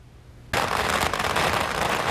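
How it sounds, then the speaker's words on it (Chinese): Firecrackers erupt suddenly at a new fishing boat's launch at a shipyard, a loud, dense crackling barrage that continues without pause after a quiet opening. "鞭炮声中送新船下水，现场好热闹。"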